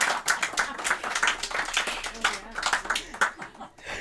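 Audience at a live reading clapping in a short burst of scattered applause, with light laughter and voices mixed in.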